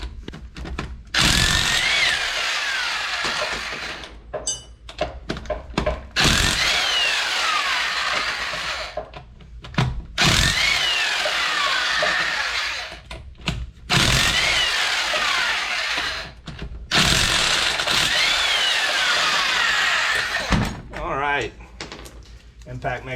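A Harbor Freight impact wrench spins off 19 mm lug nuts on a 1995 Thunderbird SC during a front suspension rebuild, firing in several loud, rattling bursts a few seconds each with short gaps between, and a voice is heard in places.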